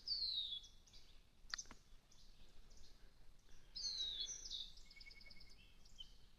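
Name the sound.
birds in the woods flying off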